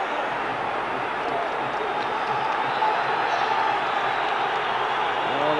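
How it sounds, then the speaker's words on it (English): A large football crowd roars steadily in a stadium during a 1992 European match between Rangers and Marseille, a continuous dense wall of noise that stays loud throughout. "Oh, the crowd getting behind Rangers here."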